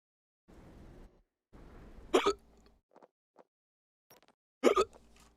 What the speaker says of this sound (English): Stop hiccup again. Stop it.